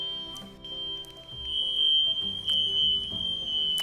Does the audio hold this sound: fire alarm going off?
yes